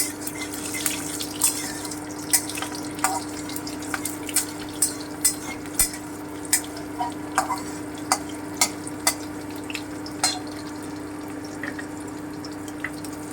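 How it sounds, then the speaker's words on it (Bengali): Slit green chilies and nigella seeds fry in oil. A soft, continuous sizzle runs underneath a regular series of light clicking taps, heard up close with no speech. "কাঁচা লঙ্কা চিড়ে রেখেছিলাম সেটা আর কালো জিরেটা দিয়ে দিচ্ছি ফোড়ন আমি হালকা করে একটু ভেজে নিচ্ছি"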